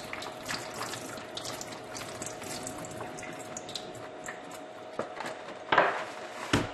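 Water runs steadily from a tap into a sink while cucumbers are rinsed, with splashes and a couple of sharper knocks near the end.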